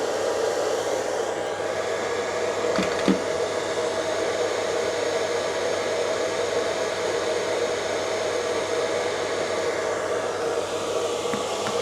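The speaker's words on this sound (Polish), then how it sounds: "Włączył się wentylator, jak słychać, więc on się ładuje." A cooling fan on a charging REDODO LiFePO4 battery whirs with a steady, fairly loud broadband rush and a faint tonal whine, continuing unchanged throughout with a couple of brief clicks early on and no talking.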